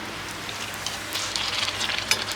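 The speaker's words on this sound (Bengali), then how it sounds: "এখন বৃষ্টি পড়ছে" Rain falls in a steady, even hiss that stays fairly constant throughout, with a few brief louder patters near the end and no voices.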